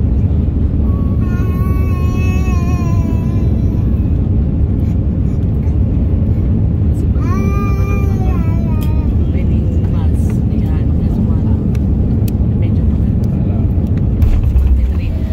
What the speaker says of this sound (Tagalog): At ito, panoorin natin ay yung paglapag namin sa Hong Kong.